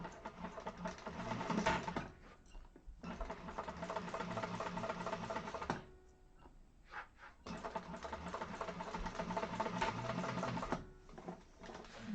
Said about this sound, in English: you can decide if you want to do 2 lines of decorative top stitching like she does in the pattern